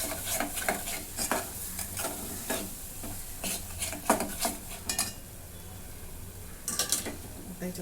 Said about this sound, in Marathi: आता हे परतून घेते